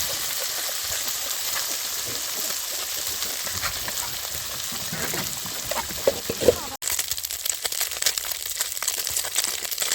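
Small mourala fish sizzle and crackle steadily in hot oil, a dense close-up frying hiss that runs continuously, with a brief knock partway through.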